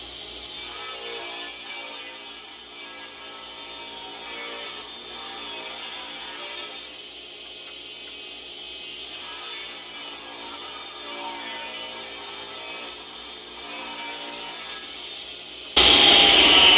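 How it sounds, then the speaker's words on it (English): A table saw rips through wood boards with a sustained, loud buzzing cut that dips and swells between passes, ending in a sharp high burst as the blade clears the board. "we'll lock it down and we'll do 2 rips for that"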